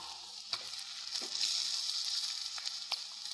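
Chicken frying in a hot pan for chicken curry, with a constant bright sizzle and a few soft stirring knocks.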